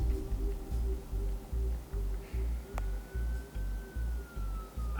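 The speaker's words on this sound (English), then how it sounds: "There are quite a few police cars convening on your location." Police car sirens wail in Batman: The Telltale Series video game, a rhythmic pulsing siren repeating about every half second, moderately loud over a low hum, with a faint tone sliding in partway through.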